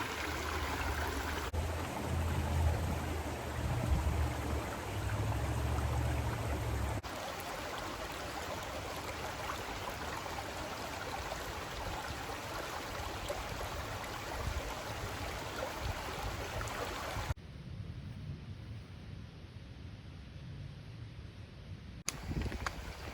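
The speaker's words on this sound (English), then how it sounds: "There's a nice creek running through it." A creek runs along an easy wooded trail in a Catoctin Mountain park. Its water flows in a steady, broadband rush that fills the whole stretch, with no one speaking.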